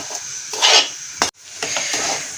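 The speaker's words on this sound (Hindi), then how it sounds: "अब हम हलवे के लिए सूजी को यहाँ पे भून रहे हैं।" Semolina is roasted in a pan for halwa, a spoon scraping and stirring it in a dry, rasping rhythm. The strokes come close and fairly loud, with one sharp clack partway through.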